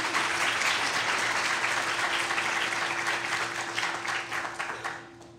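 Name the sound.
audience applause for a panel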